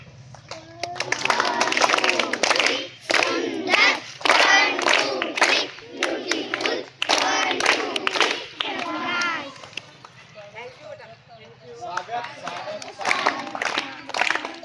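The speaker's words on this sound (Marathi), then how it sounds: "वेलकममध्ये 3 वेळा टाळ्या वाजवून" Schoolchildren clap together to welcome their teachers, the bursts of claps set among loud group chanting and shouting from a room full of kids.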